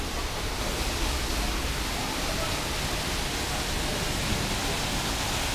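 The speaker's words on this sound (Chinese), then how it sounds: "这里还有一个瀑布啊" A small waterfall in the garden of Panxi restaurant in Guangzhou's Liwan district, dropping into a lotus pond, giving a steady, dense, broadband rushing roar that stays even throughout with no pauses.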